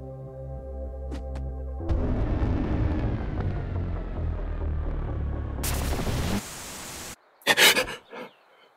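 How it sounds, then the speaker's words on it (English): TV static white noise plays as a low droning hiss that swells into a loud, dense broadband rush, then cuts off and gives way to a few short, sharp bursts. "turn on my TV as white noise to stave off any lingering nightmares"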